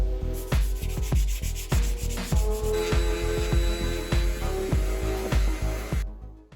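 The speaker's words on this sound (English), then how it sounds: "start sanding the rest of this down to prepare the whole surface for more art" Steady, rhythmic strokes of sandpaper rasp back and forth across the rusty painted surface of a Night Driver arcade cabinet, close and loud, repeating about twice a second before stopping.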